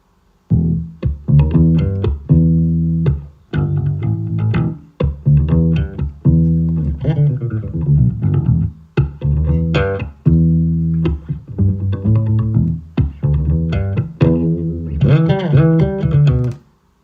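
A fast, punchy bass guitar riff at 120 BPM repeats with quick plucked notes and brief gaps, loud and up close, with no voices.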